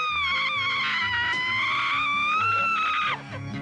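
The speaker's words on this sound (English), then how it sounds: "you can still hear her screaming when he walks away from the house" A woman screams in a high, wavering, sustained cry in the TV version of the horror film Halloween II, rising and trembling over a low music bed before the cry breaks off near the end.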